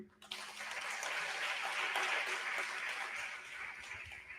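An audience at a high school graduation ceremony applauds the graduating students, a broad wash of clapping that starts suddenly, holds steady, then thins slightly, heard from some distance.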